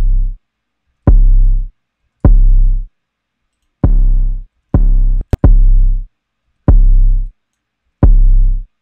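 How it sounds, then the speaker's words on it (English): Deep 808 bass drum hits with UAD 808 compression preset, eight booming notes each ringing about half a second with a sharp punchy attack, irregular beat pattern, loud and alone with a brief click near the middle. "it makes the 808 sound way cleaner without taking anything away from it"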